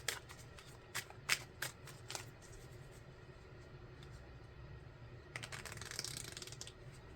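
Tarot cards are shuffled and drawn at a reading: a few sharp snapping card clicks at first, then a quieter rustle and a brisk riffle near the end, close and with no talk.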